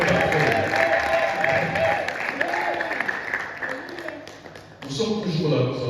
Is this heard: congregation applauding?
yes